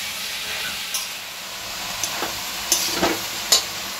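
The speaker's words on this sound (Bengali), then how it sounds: "তো এখানে বাঁধাকপি তরকারি বসেছি" Cabbage curry cooks in a pan with a soft continuous sizzle and hiss, broken by several short scraping stirs and clinks.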